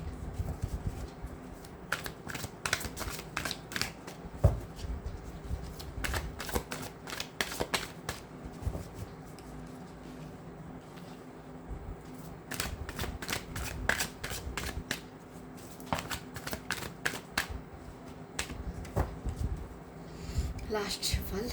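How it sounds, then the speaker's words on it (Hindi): Tarot cards are shuffled at close range for a reading, a soft low-level riffling in quick repeated bursts separated by short pauses, while someone speaks quietly over it. "Last shuffle."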